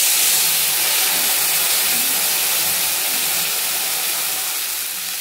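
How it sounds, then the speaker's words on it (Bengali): Water hits a hot pan of fried fish for a light fish curry and sets off a loud, dense sizzle. The hiss holds steady and close, then eases slightly toward the end, with no talking. "একটু জল দিয়ে দিই।"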